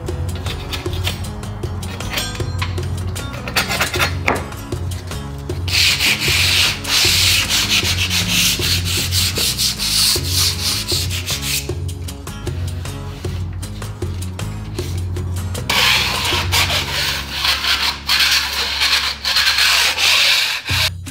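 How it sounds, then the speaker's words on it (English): Sandpaper rubs over thinset mortar on the outside corners of a shower substrate, a close, loud scratchy sanding in repeated back-and-forth bursts with short pauses between strokes. "Lightly sand the outside corners to remove any excess Thinset."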